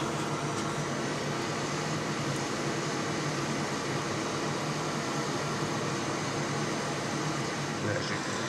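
A hot air rework station set to 410 °C and airspeed 100 runs alongside a fume extractor during a Nintendo Switch USB-C port repair, giving a faint, even, continuous airy hiss and fan whoosh throughout.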